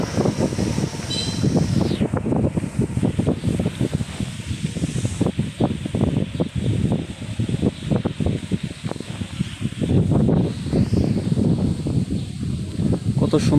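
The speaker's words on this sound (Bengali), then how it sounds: "খুব সুন্দর বাতাস।" Strong wind gusting across an open village spot, loud rustling and buffeting noise on the microphone in irregular bursts, continuous throughout with no clear talking.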